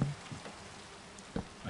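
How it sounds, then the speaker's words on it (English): Rain falls in the video game Minecraft as a soft, steady hiss, faint and continuous, with a few brief low thumps over it and no talk. "Oh look, and it's rain time."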